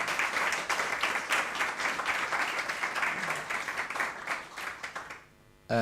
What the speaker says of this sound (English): Should we just give the panelists applause?